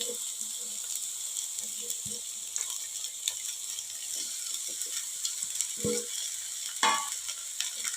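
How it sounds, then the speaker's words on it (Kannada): Capsicum, carrot and cabbage frying for fried rice make a constant hissing sizzle, with occasional knocks and scrapes from a stirring spoon against the pan, close and fairly quiet. "ಅದು ಕ್ಯಾಬೇಜ್ ಸ್ವಲ್ಪ ಫ್ರೈ ಆಗುವಾಗ ಕಟ್ತದೆ"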